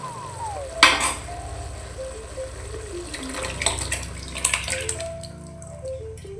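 Water splashes from a vessel into a pan of cooked chicken masala for chicken puli munchi, with close clinks of utensils on the pan and some stirring.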